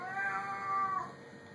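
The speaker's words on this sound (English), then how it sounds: "whiny cat meowing in the background because he thinks he needs food" A house cat meows for food, one drawn-out whiny meow lasting about a second, fairly close and clear, fading into quiet room tone with no talking.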